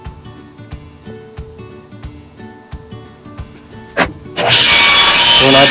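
Wooden boards are ripped down to 1.5-inch strips on a saw while an Adirondack chair is built. Light tapping and handling noises lead into a loud, steady cutting roar that begins near the end and carries on to the close.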